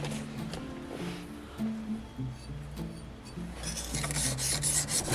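A steel blade scrapes back and forth over a 1200 grit diamond sharpening stone in steady, rasping strokes that grow brighter and busier toward the end, with no talk over it.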